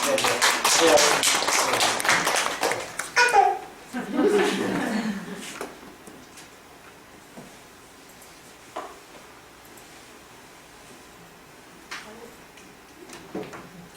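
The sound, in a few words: audience applause for the teacher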